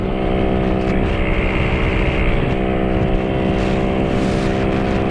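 Honda Pop 110i motorcycle exhaust at speed, a loud steady engine drone with strong harmonic bands and wind rush, continuous and close throughout without talk.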